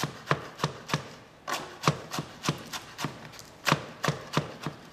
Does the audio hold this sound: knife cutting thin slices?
yes